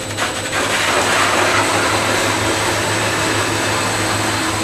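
A J860 manual slitting machine runs with a loud, steady mechanical whir and hum that holds evenly throughout, close by, with no voices.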